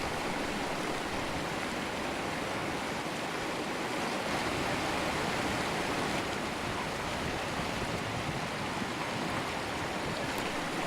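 The wild Red River rushes in a continuous broadband roar of fast-running water, loud and close, steady for the whole stretch with no voices.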